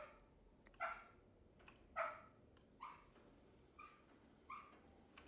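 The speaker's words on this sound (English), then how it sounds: "My dog's having some interesting dreams again." Soft, muffled woofs from a sleeping dog in a dream, five short yips spaced about a second apart, quiet and close, with no one talking.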